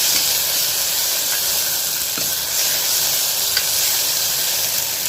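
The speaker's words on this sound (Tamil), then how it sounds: "இஞ்சி பூண்டு சேர்த்து அதையும் நல்லா ராஸ்மல் போகிற வரையும் வதக்கிக்கலாம்" Ginger garlic paste sautéing in a pan for a mutton fry, a loud continuous close sizzle and hiss with occasional faint stirring scrapes and no talking.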